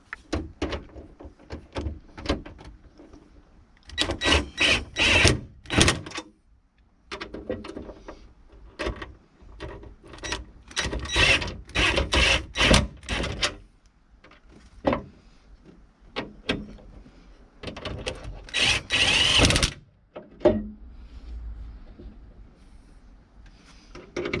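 Bolts being tightened on a Mazda MX5 swan neck wing: bursts of ratcheting and clicking tool work come in uneven clusters separated by quiet gaps, close to the microphone, no voices.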